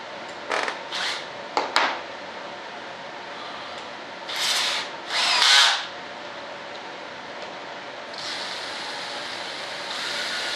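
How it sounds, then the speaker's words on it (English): A small drill bores out fuel line fittings for an RC jet F-105 Thunderchief, with several short whirring bursts separated by pauses and a longer steady run at the end, close by. "so we got to drill them out."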